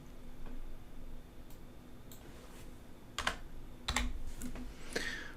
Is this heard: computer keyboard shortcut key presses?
yes